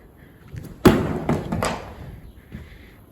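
A wooden ninja throwing star is thrown and strikes a target, one sharp close thud followed by a couple of lighter knocks as it settles, with quiet room tone around it.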